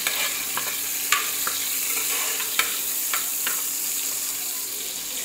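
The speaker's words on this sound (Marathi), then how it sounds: "आपण सर्व खडे मसाले टाकले, कढीपत्ता आणि खडे मसाला" Whole spices and curry leaves sizzle steadily in hot oil, a continuous bright crackle with a few sharp pops rising above it, close and alone with no voices.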